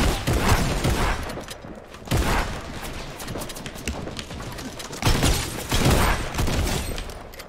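Rapid bursts of video game gunfire crackle in several loud volleys, broken by short pauses, with a steady background rumble between the shots.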